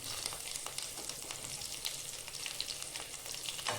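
Fresh curry leaves dropped into hot oil for a Kerala raw plantain and bean stir-fry give a steady, close crackling sizzle with sharp spits and pops, running loud and unbroken without any voices.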